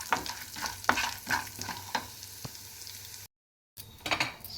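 Chana dal and urad dal frying with mustard seeds in hot oil for rava idli tempering, a soft continuous sizzle broken by repeated spatula scrapes and stirs, briefly cut to silence before the stirring resumes.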